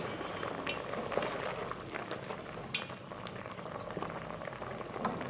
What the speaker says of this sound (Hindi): इसको हम 15 से 20 मिनट के लिए ढक्कन बांध करके बॉयल कर लेंगे, ताकि दाल अच्छे से गल जाए